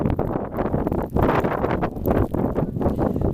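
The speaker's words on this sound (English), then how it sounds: "I don't want to walk into the wind" Blizzard wind in a Philadelphia street in 2016 buffets the microphone in loud, rushing gusts that rise and fall for several seconds.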